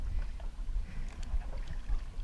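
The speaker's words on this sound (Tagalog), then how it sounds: "Yung lakas na ng alon." Strong waves slosh and rumble against a small boat off Quezon, a dense low wash of water with wind buffeting, continuous and close.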